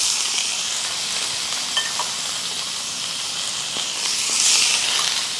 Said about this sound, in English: all we're wanting is just to sear this meat